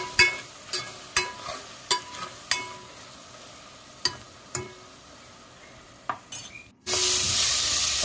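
Tomatoes in a tamarind broth for Andhra-style pappu charu, with a series of sharp spoon taps against the pot at a slow, uneven pace, then a sudden loud hiss of liquid at the end.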